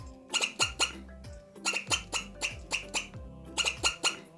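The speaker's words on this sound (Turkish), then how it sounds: "Bu bir sincap." A squirrel makes quick bursts of sharp chattering chirps, three clusters of rapid clicks separated by brief pauses, faint and close.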